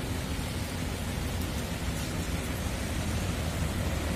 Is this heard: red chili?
no